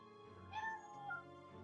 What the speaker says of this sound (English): my cat's just decided to come in and meowing